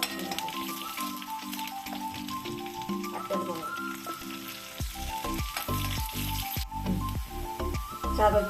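Mustard seeds, onion and curry leaves frying in hot oil for kozhuppa thoran, a loud continuous sizzle with crackles and spattering pops that grow busier toward the end.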